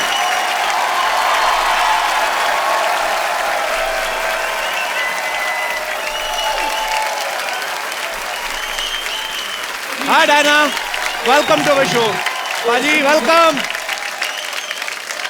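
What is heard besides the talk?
studio audience applause welcoming show guests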